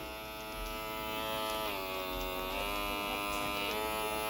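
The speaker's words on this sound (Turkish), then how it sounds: "Bir de üf, Lesima Loyal'ın çalışmasına duyuyor musunuz arkadaşlar?" A Lesima Loyal electric shaver runs with a steady, loud motor buzz and dense harmonic whine, holding constant with slight pitch dips throughout, no voices.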